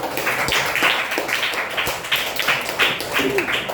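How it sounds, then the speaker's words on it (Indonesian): A class claps for a student after a presentation, uneven rhythmic hand claps from several people in a room, fairly close, with faint voices underneath. "Kita tepuk tangan yang meriah"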